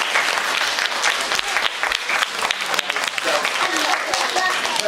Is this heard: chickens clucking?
no